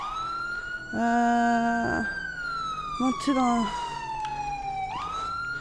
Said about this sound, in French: j'arrête les sirènes avant d'avoir mal à la tête